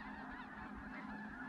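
Dense, continuous honking of many geese, a steady raucous chorus throughout with no pauses.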